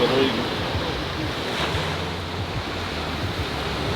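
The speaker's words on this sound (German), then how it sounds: "Bei dem Meeresrauschen." Steady ocean surf on a beach in Thailand, a continuous broad wash of breaking waves with some wind noise on the microphone, moderately loud and unbroken throughout.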